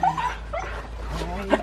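Huskies whimper and yip excitedly at their owner's return home, close and loud, their high whines running under people talking.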